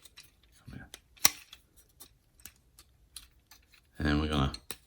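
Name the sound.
folding the chest piece of a plastic transforming robot figure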